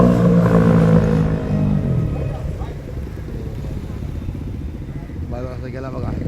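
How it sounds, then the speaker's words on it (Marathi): A motorcycle passes on the road near a bandstand, its engine loud and close for about a second before fading into traffic noise while someone talks over it. "बघा बाईकवाला, बघा बाईक"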